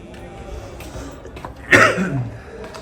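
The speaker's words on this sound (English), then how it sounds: "Apologies for my cough." A man gives a single loud, rough cough up close, abrupt and harsh after a few seconds of quiet background noise, trailing off in a short breathy tail.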